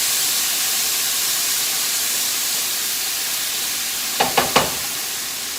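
Chopped red pepper sizzling in hot oil in a pan, a loud steady broadband hiss throughout, broken near the end by three quick knocks of a utensil.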